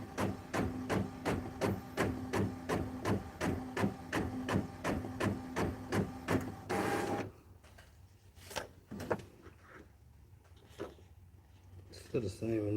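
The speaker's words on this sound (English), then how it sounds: "you must got the same printer" A printer prints with a loud, regular mechanical chatter of rapid repeated strokes for several seconds, then stops, leaving quiet clicks and handling noises; a person talks over it.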